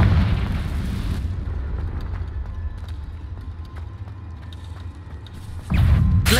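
A Confringo fire spell explodes in the Hogwarts Legacy video game, with a loud rumbling blast at the start, a dull sustained roar fading underneath, then a second heavy boom near the end.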